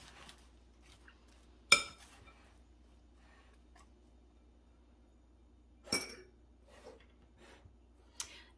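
A winter salad with candied pecans and cranberries is lightly tossed, producing three sharp, isolated utensil clinks against the bowl amid near silence.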